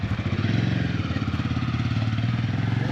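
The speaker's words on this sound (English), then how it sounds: "That's the BMW like adventure touring bike" A BMW GS adventure touring motorcycle idles nearby with a steady, loud, pulsing engine throb that runs unbroken from start to finish.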